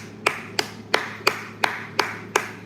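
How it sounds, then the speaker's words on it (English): Seven sharp, evenly spaced hand claps, roughly three per second, from a single nearby clapper answering a call for applause for kind people; a faint low hum sits beneath. "Can we just give the kind people a round of applause?"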